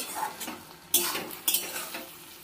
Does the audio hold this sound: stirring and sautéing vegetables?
yes